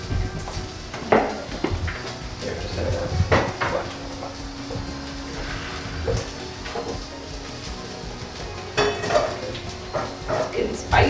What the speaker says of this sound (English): So now that our noodles are finished, we're going to strain them.